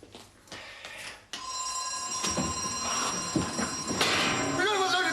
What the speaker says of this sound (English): Press the alarm.